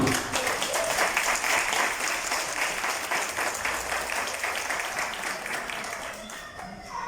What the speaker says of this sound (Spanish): Así que brindemos un aplauso para empezar con estos ánimos esta tarde.